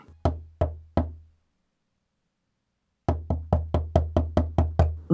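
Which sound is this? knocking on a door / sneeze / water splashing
knocking on a door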